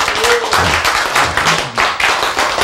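A church congregation claps together in a steady burst of applause lasting a few seconds, loud and close, with no talking over it.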